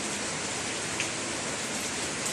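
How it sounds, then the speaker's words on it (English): Steady Jamaican rainfall pours down in a dense, unbroken hiss, close and fairly loud throughout, with no voices over it. "wake up to some nice Jamaican rain."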